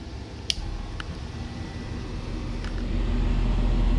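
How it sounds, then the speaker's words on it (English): A low motor hum that builds steadily and grows louder as a self-priming water pump starts up in a camper van water system, with a few faint clicks early on. "this is the first time I'm turning on the pump."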